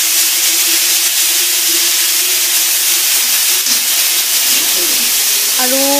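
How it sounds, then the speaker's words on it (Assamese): Fish head frying in hot oil with five-spice seeds, a loud continuous hiss and sizzle throughout, with a brief clatter near the end. "মায়ে দুটামান পাঁচফোৰণ দি দিলে আৰু তাতে মাথাটো ফ্ৰাই কৰি লৈছে"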